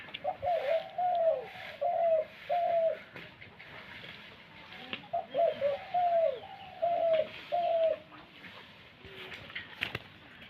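A five-month-old young male pet bird calling indoors, giving repeated short cooing phrases in two bursts with pauses between, moderately close and clear over a quiet background.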